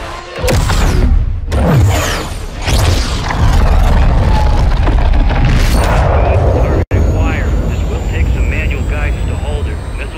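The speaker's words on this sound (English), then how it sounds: "Missile is ready for immediate delivery. Stand by for launch." Loud, roaring missile launch and impact in Call of Duty: Modern Warfare 2 (2022), with heavy booms and a sustained jet-like rumble that fills the whole stretch, and radio chatter mixed in.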